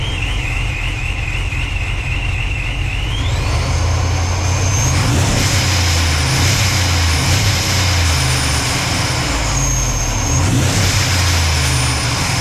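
Supercharged 2007 Dodge Charger R/T Daytona Edition engine revved up, a loud close engine drone with a rising whine that climbs sharply twice, holding high between the pushes.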